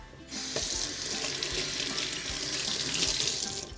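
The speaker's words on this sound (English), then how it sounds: "what I'm going to do is I'm going to rinse them off first. So I'm going to go over here to the sink" Kitchen sink faucet running steadily as tomatillos are rinsed under the stream, a continuous close hiss of water with faint knocks of fruit against the basin.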